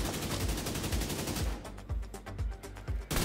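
Assault rifle fire in The Division 2 comes as rapid bursts of shots, first a dense burst, then spaced single cracks at a regular rhythm, loud and close with no talk.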